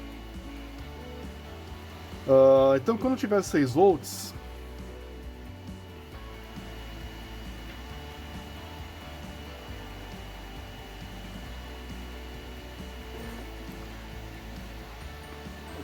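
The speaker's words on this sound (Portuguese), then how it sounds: "Esse barulho é da minha impressora 3D." A 3D printer runs nearby as a steady, soft mechanical whir, with someone speaking briefly early on and the hum continuing alone afterward.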